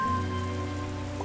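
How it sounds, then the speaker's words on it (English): Rain falls outside in the video game Strange Horticulture, a soft steady patter under a low sustained musical drone, brief and even throughout. "It's raining outside."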